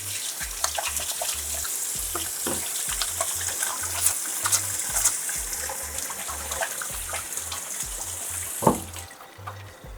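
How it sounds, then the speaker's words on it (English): Hands being washed under a running kitchen tap: a steady hiss of flowing water with soft splashing and rubbing throughout, fairly close, ending with a brief louder splash and the water cutting off. "wash hands"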